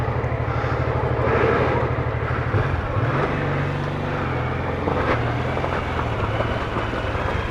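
Single-cylinder BMW F450GS motorcycle engine working on a trial bike track, loud and close, with a steady throbbing idle that blips and drops as the rider shifts, continuous throughout.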